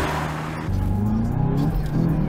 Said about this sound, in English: Sounds like a good burning clutch in here.